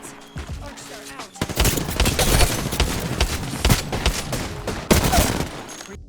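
Video game gunfire during a solo match, with rapid bursts of automatic shots and several sharp single cracks, loud and close and layered over one another, with brief speech in places.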